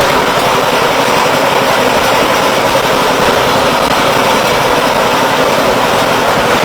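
Steady, loud, continuous roar of a 4G 120 reaper harvesting machine running with its reaper engaged, a dense unbroken mechanical drone with no talk.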